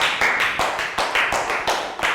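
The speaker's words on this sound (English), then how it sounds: "High five and a round of applause for Ned." A small group of children claps in rhythm in a primary school maths classroom, a short, near, regular beat of about eight claps with no talk.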